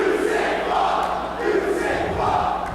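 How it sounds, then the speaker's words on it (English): A wrestling crowd at a Ring of Honor street fight roars and cheers continuously, a loud, swelling mass of voices with rising shouts and no single sound standing out. "listen to that crowd,"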